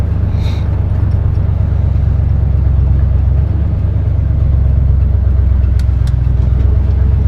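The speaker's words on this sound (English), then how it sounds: "See how the transmission shifts." A car engine runs steadily with a low rumble close by, the idle-like drone shifting slightly midway as the transmission changes gear, with no talk over it.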